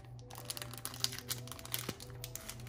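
Paper sticky note flags being folded, giving quiet close crinkles and small crisp paper taps at an uneven pace, without talking.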